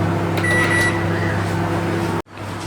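A microwave oven reheating yesterday's leftover home cooking, a loud steady hum with harmonic drone and a faint rattle, cut off abruptly near the end before a quieter hum resumes.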